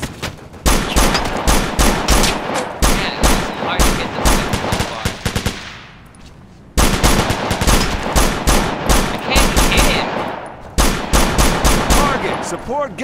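Heavy automatic gunfire in the military shooter Operation Flashpoint: Dragon Rising, long loud bursts of rapid shots with a brief lull in the middle before firing resumes, close and dominant, with faint radio-style voices underneath.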